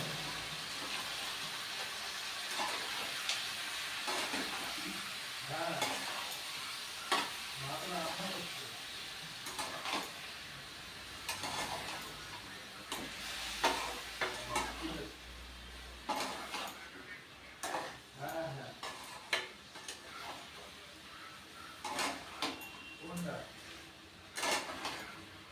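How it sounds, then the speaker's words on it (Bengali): Spice masala being sautéed with a little water in a pan at home, giving a steady hiss with repeated metallic scrapes and clinks of utensil against pan, near and moderately loud throughout. "যেহেতু মশলাটা দিলাম, অল্প একটু জল দিয়ে আমি কষিয়ে নেব।"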